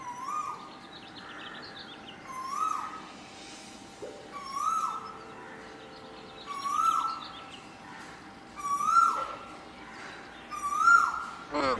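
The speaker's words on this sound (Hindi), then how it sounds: "ये सुबह सुबह कोयल की मधुर आवाज हमारे कानों में ठंडक पहुंचाती है।" A koel sings in the morning near a palace, repeating a rising, fluting call about every two seconds, clear and moderately loud against a quiet background.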